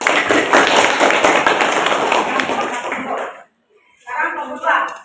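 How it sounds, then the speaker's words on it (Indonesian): A classroom of students claps together after a group finishes presenting, dense overlapping hand claps for about three seconds, then a brief pause and a short burst of children's voices. "Tepuk tangan dulu nak."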